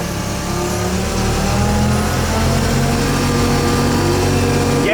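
A heavy machine's engine, run with an ordinary car-style brake and gas pedal, revs up as the gas is pressed, a steady loud drone with harmonic whine rising slightly and holding.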